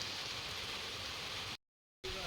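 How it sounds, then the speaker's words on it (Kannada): Dense, steady village rain pattering on a surface close by, continuous hiss with a short silent gap before it resumes. "ಮಳೆ"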